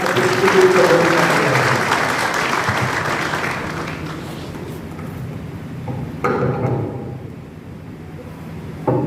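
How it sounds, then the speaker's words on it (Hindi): An audience claps loudly for a speaker at a Tiranga Yatra gathering in Jodhpur. The dense applause fades over several seconds, then a few scattered claps and stray noises follow. "संपत्ति जोरदार तालियां"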